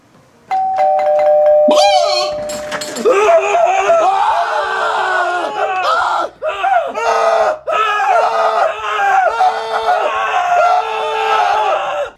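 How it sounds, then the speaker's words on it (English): A loud doorbell chime rings out while trick-or-treating on Halloween, then a burst of shrill yelling and screaming voices fills the rest, with brief gaps. "I'll ring the doorbell."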